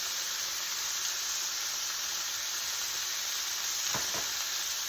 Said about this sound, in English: while this thing is frying a little bit